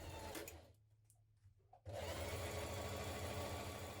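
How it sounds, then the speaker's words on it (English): A sewing machine basting down the sides of jacket pieces runs in a fast, steady whir, stops briefly for about a second, then starts again and runs on loudly and close. "we're going to baste down each side just to keep them in place"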